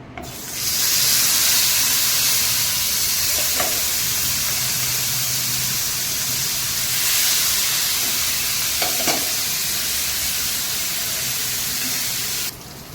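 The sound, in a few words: yam slices frying in hot oil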